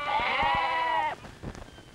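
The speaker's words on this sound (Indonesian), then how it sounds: "Kalau kambing mengembe, tandanya dia setuju." A goat bleats once in a long, wavering, nasal call lasting about a second, close and loud, followed by a brief fainter sound, in an Indonesian film scene.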